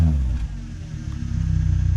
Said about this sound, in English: Hey Aiden, give her a couple revs.